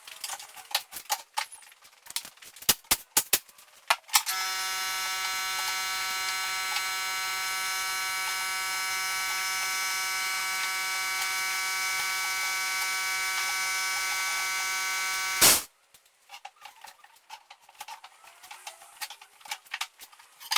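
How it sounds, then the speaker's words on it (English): A compressor sped up ten times produces a loud, harsh, steady high-pitched whine with many overtones lasting about eleven seconds, framed by clicking and tapping noises before and after. "that horrible noise is what a compressor sounds like when it's speeded up 10 times"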